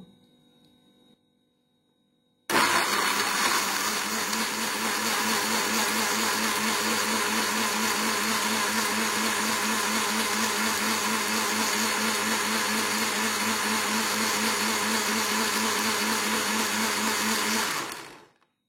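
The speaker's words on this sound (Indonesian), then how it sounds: "dalam blender ini kita tambahkan 100 cc air. Kita tutup dan kita mulai untuk menggiling bumbu." An electric blender grinding a small batch of spice paste with 100 cc of water, a loud steady whirring roar that starts abruptly after a quiet lead-in and runs about fifteen seconds before cutting off.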